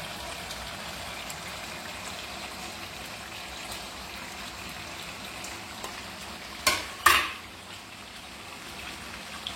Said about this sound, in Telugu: ఇది ఒక 10 minutes బాగా ఫ్రై చేయాలండి.